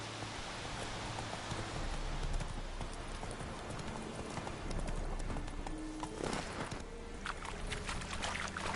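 Galloping hooves of Roach, the horse in The Witcher 3, drum steadily and close, mixed with rain-like patter and game ambience, with no talk over them.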